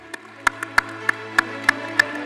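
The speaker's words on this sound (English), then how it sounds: "Ladies and gentlemen, please give him a round of applause, please." Sparse, scattered handclaps at an annual awards ceremony in India: about seven single claps spaced unevenly over a steady low hum, with no sustained crowd applause.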